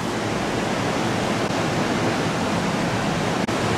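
Ocean surf at Myrtle Beach, heard from a seventh-floor balcony, forms a constant broad roar of breaking waves with no distinct individual crashes.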